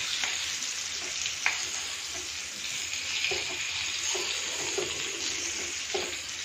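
Besan-stuffed green chillies for a Rajasthani bharwa mirchi dish fry in oil and are stirred in the pan: a steady close sizzle broken by scraping and clinking stirs.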